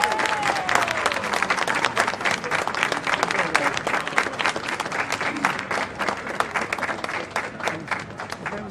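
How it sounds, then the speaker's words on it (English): Sustained, dense applause from a sizable crowd at a statue unveiling in the Cavern Club, Liverpool, steady and loud for several seconds, with some faint voices mixed in. "I think a round of applause for everybody"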